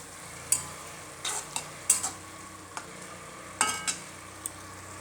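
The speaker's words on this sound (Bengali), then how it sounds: "টমেটো দিয়েও আমি ভালো করে কষিয়ে নেব আরেকটু।" Tomato being stirred into spiced masala, fried down for a jackfruit (enchor) curry, with a soft steady sizzle broken by several sharp scraping and clattering stirs spaced a second or so apart.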